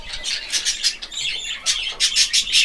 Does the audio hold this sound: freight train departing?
no